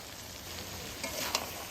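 Spices fry together in mustard oil in a pan, giving a soft, steady sizzle with a faint stir or two near the end, brief and fairly quiet, with no talk.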